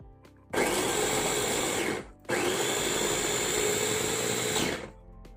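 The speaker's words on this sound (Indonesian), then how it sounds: "Ini supaya lebih mudah saya menggunakan chopper ya teman-teman." An electric food chopper roughly chops shallots and red chilies in two loud bursts of whirring motor, about one and a half then two and a half seconds long, separated by a short pause, with no talk.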